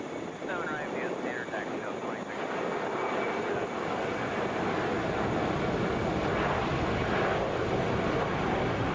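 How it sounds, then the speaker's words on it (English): An Airbus A320 airliner on approach to land at Atlanta's airport rumbles as a steady broadband roar across the whole stretch, loud and continuous, with a voice talking over it. "This is Delta 1017 coming in from Buffalo. Airbus A320."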